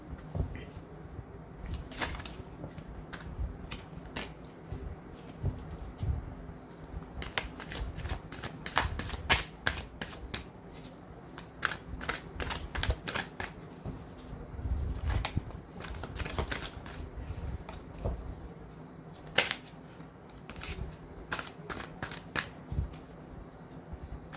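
Tarot cards are shuffled in repeated quick riffling bursts, close and crisp, with short pauses between rounds and no speech.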